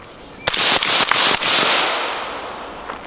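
A 5.56 rifle fired through a short Ferox suppressor gives a quick string of sharp, loud cracks close by, each with a brief hissing tail and a gradually fading echo.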